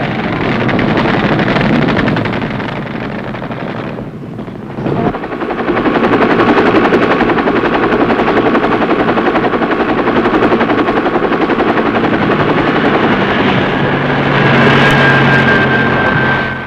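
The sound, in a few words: medevac helicopter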